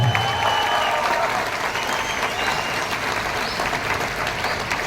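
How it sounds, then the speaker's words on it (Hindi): Sustained applause from an audience at a speech in Surat, honoring Saurabh sir, with steady dense clapping throughout and a faint crowd murmur underneath. "ऐसे सौरभ सर के लिए शानदार ताली"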